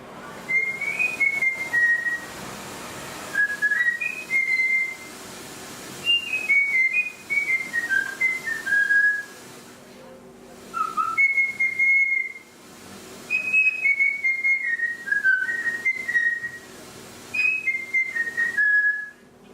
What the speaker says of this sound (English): Bullfinch, imitation of German folk tones.